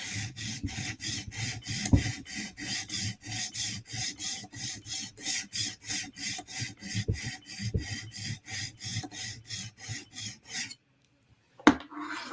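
PM2 Tanto knife blade drawn across a sharpening stone in quick, steady back-and-forth strokes, a close rhythmic rasping that runs for about ten seconds before stopping, followed by a single sharp knock.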